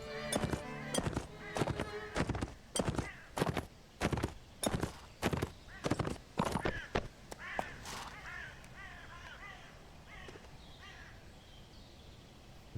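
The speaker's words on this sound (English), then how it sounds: "Is that their horse I heard?" Horse hooves in the video game Mount and Blade, a run of sharp, evenly spaced thuds for about seven seconds that then give way to softer scattered sounds; no clear neigh stands out.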